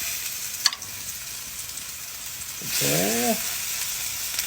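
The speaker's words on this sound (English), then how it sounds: "You're gonna hear a good old sizzle." A sharp tap, then a steady loud sizzle of steak searing in a hot skillet, with a brief spoken word over it.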